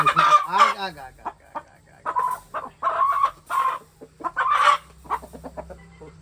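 A Peruvian cross-breed rooster from Bhimavaram clucks and calls in a string of loud, close bursts, with short pauses between the calls.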